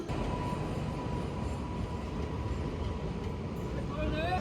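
The New Alipurduar–Sealdah Teesta Torsha Express rumbles into a station platform under a busy, noisy background. A rising squeal near the end sounds like brakes as it pulls in.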